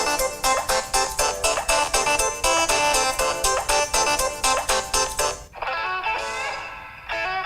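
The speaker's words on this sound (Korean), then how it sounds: "소리를 가장 키운 상태에서 어떤 벨소리들을 탑재하고 있는지 한번 들어볼게요" A loud, bright electronic ringtone from a Samsung Galaxy Folder2 flip phone at maximum volume plays a quick repeating melody of sharp beeps, then shifts to a different tone near the end.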